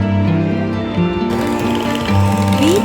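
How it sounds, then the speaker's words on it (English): Electric beater whirring steadily through a no-bake orange cheesecake filling of cream cheese, orange Jell-O powder, orange juice and orange emulsion, a continuous close mechanical drone with shifting pitch and no talk. "Beat to mix everything well."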